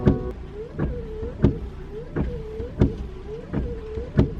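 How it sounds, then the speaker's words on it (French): Car windshield wipers sweep back and forth in a steady rhythm, each pass ending in a sharp thump, with a rubbery squeak in between under low engine hum. "j'ai décidé de mettre la musique des essuie-glaces."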